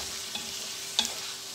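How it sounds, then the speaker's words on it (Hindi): Boneless chicken frying and being stirred in a pan for a chicken and bhindi dish, giving a steady close sizzle with a faint spoon scrape partway through; no speech. "अब मैं इसके अंदर बोनलेस चिकन अपना जो है वो ऐड कर रही हूँ। चिकन को मैं अच्छी तरह भून लूँगी।"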